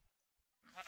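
A single short, bright Minecraft sheep bleat comes up after near-silence and sounds close and clear. It follows faint scattered game sounds, and no one talks over it.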